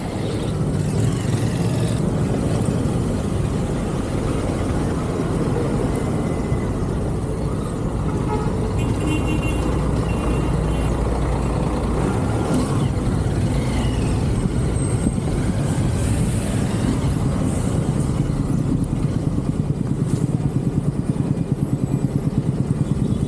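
Heavy road traffic with large trucks passing on a highway in hot weather, a continuous loud roar of engines and tyres with wind rushing, heard from a moving motorcycle, with faint talk at moments.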